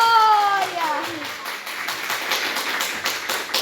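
A church congregation claps in a quick, even rhythm after a voice briefly speaks at the start; the claps repeat steadily and closely throughout.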